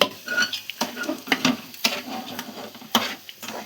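Semolina (rava) goes into a pan and is stirred for rava coconut laddu, giving irregular scraping strokes and sharp clinks of a utensil against the metal, close and fairly quiet, with no talking.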